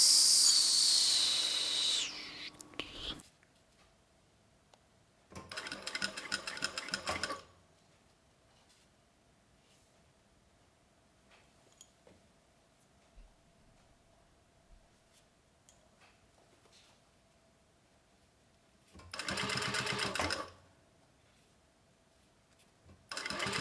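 A sewing machine stitches fabric for a tarot card case in three separate runs, each a few seconds long and close by, with long quiet pauses between them.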